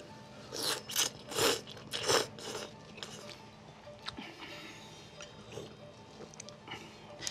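Someone close by eats a bowl of light shio ramen, with a few loud, breathy slurps of noodles and broth early on, then softer chewing and small wet mouth sounds.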